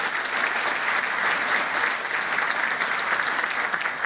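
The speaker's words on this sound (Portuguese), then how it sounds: "E aí eles pediram um aplauso." Audience applause at a government decree signing ceremony for farmers' debt renegotiation, a steady dense wash of clapping from a crowd that holds evenly throughout without talk.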